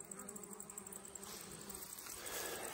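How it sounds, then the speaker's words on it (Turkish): Honeybees laden with pollen or syrup flying in to a hive entrance, a dense steady buzzing drone of many bees close by, swelling slightly louder toward the end. "Gelen arı aşağı yukarı dolu geliyor."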